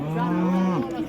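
A cow at the Mohammadyar livestock market lets out one long, loud, close moo that holds steady and then drops in pitch near the end.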